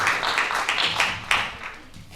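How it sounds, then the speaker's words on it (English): Audience applause at a panel event in Malawi, a warm wash of clapping from many hands that carries on throughout with a few stronger bursts. "let's give her a massive round of applause"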